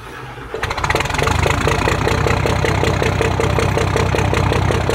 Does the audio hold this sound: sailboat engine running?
yes